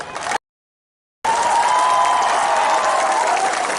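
A large crowd claps steadily at a Tipra Motha mass gathering in Manikpur. The dense applause breaks off briefly, then swells back and holds loud and continuous to the end.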